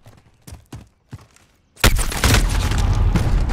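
Gunfire in Call of Duty: Modern Warfare: a few separate shots, then a sustained loud burst of rapid automatic fire that runs to the end.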